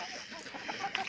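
Local chickens fed a mixed mash on a small farm that also keeps pigs cluck in a short burst of soft, close calls with a few sharper notes near the end. No one speaks.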